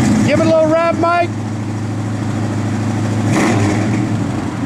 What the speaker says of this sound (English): Give it a little rev, Mike.